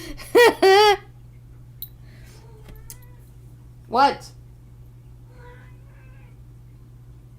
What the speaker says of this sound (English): Why are you meowing? Can you guys hear my cat?